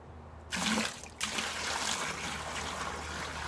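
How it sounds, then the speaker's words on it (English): Water pours into a bucket holding worm castings, starting suddenly as a loud splashing gush with a brief break, then running on as a steady close trickle. "I add my water."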